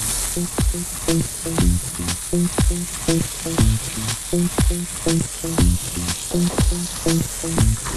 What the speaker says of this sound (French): Et là, oui, ça commence à caraméliser.